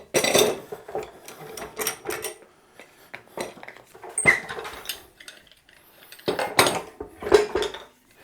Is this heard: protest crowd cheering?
no